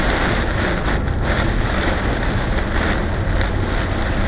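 Strong wind buffets against the microphone as a steady, loud roar with slight gusting, continuous throughout and without any clear voices.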